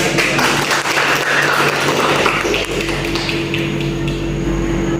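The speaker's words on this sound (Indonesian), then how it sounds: "Tepuk tangan." A classroom of students applauds loudly and steadily, a dense, continuous wash of clapping that holds for several seconds without pause.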